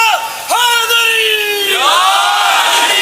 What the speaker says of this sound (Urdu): آپ کے نعرے کو میں نے روک دیا، لگا دیں لگا دیں